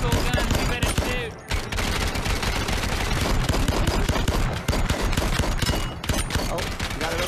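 Rapid gunfire from shooting a target in the VR game Gambit on Quest 2, loud sustained bursts of close automatic fire with one short break, a voice occasionally audible beneath.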